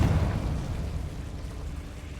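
A Confringo fire spell bursts in Hogwarts Legacy, a loud low rumbling blast that opens strongly and then fades into a crackling, rain-like tail over about two seconds.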